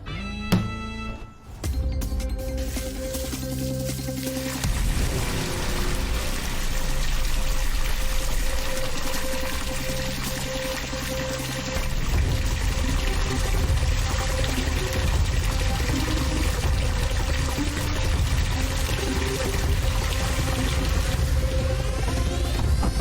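Water runs from a tap into a container in a steady, continuous stream, fairly loud and close, layered over ongoing background music with no talking.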